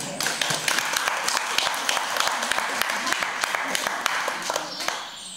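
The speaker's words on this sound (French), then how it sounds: "On peut l'applaudir quand même." Warm applause in a church sanctuary after a sung Hail Mary, many hands clapping in a steady patter with individual claps standing out, sustained and moderately close, with a few voices murmuring under it.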